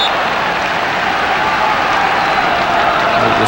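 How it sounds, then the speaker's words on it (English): A football stadium crowd at a 1996-97 Champions League match between Rangers and Grasshopper keeps up a loud, continuous roar of cheering and clapping, with no break in the noise. "you hear all these crowd cheers for these challenges by Rangers players"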